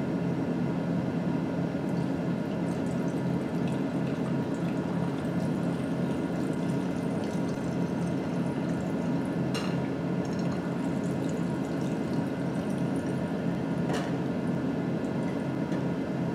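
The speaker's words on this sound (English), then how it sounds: "You will do this using more distilled water." Distilled water is poured steadily into a volumetric flask in a chemistry lab, making a faint, continuous trickling hiss with a couple of small splashes and no talking.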